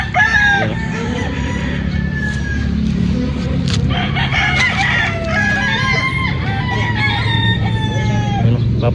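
Several Popeye Grill gamefowl roosters crow repeatedly at a game farm, overlapping calls near and far with clucking over a steady background din.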